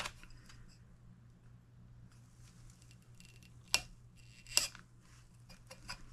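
Scissors snip cured UV resin along the rim of a clear wine glass, a few sharp, crisp cuts with small ticking handling noises between them, close and quiet over a faint background hum.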